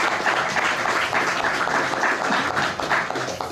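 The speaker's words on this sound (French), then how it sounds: "vous pouvez applaudir." Dense, steady applause from a live show audience fills the whole stretch, loud and continuous with no pauses.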